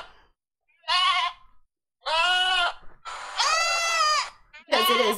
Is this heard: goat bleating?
yes